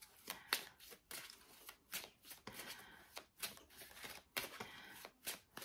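Tarot cards are shuffled by hand in quick, repeated riffling bursts, each a crisp papery flutter, close and fairly quiet with short pauses between them.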